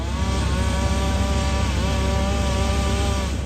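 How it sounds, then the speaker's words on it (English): A chainsaw runs continuously at high revs, loud and close, cutting in trees during tree work, with a steady droning tone and no voices. "you want to see guys with chainsaws in trees."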